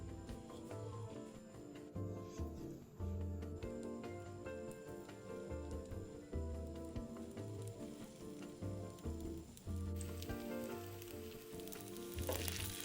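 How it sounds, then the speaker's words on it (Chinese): Savoury tapioca cake slices pan-frying over low heat in a little oil in a non-stick pan, a steady close sizzle running throughout alongside soft background music. "放入平底不粘锅内，放很少的油，用文火煎一煎"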